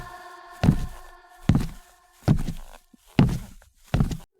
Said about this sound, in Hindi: तभी मुझे पीछे किसी के कदमों की आवाज सुनाई दी।